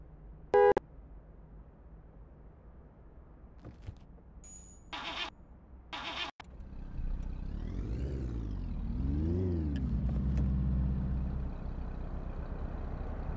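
A car engine in City Car Driving, the video game, starts up at a gas station and then idles and revs, rising and falling in pitch after a few earlier clicks and beeps, steady and moderately loud.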